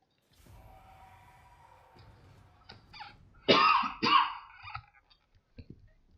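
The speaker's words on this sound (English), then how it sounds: "Apologies if that cough was incredibly loud." A couple of sharp, loud coughs close to the microphone after a quiet stretch, followed by a few faint clicks.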